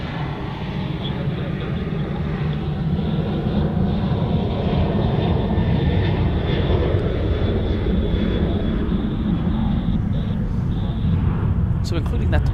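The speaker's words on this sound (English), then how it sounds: "So including that departure there, the next 3 departures on runway 34 right are going to be all Melbourne bound" Passenger jet departing runway 34 Right at Sydney Airport, bound for Melbourne, a loud steady engine roar filling the whole span with broadband rumble, heard outdoors with faint talk mixed in.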